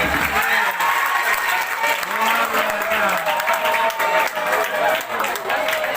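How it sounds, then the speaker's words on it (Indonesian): An audience claps for a performer at a santri gathering, with continuous, fairly loud, uneven clapping and a voice talking over it throughout. "Tepuk tangan untuk Anda Zaira"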